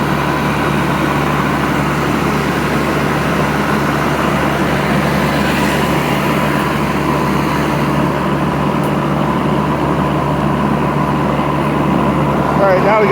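A Cub Cadet CC30E electric riding mower driving along, producing a steady, continuous whirring drone with a constant low hum and broad wind-like rush that holds evenly throughout.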